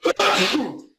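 A single close sneeze bursts out loudly and ends within a second, during a tabletop role-playing game session recording.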